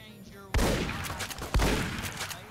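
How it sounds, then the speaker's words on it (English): Gunfire in the video game Fallout: New Vegas: two loud, sharp shots about a second apart, each trailing off into a ringing, echoing tail. "I'm gonna shoot you to death."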